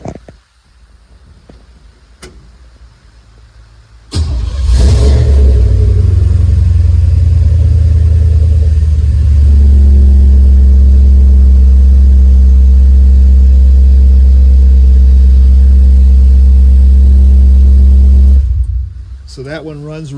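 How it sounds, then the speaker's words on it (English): A small-block Chevy LT1 V8 in a rat-rod 1952 Ford F1 truck fires up with a loud burst, then idles with a deep, steady rumble close by for about fourteen seconds before shutting off. "It's got a nice small block Chevy motor in it. LT1 equipped. Runs really well."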